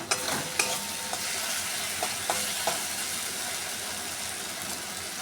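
Cooked-down spice paste with three green chillies sizzles steadily in a pan, a continuous close frying hiss punctuated by several sharp clicks of a spoon in the first few seconds.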